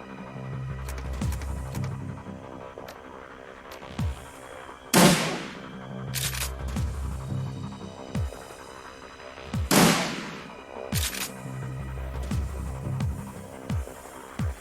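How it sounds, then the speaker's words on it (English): Shotgun blasts in the PC game Shadowrun Returns: two loud, sharp booms about five seconds apart, with a few lighter gunshots between them, over a steady low throbbing hum of game music. "That's a shotgun."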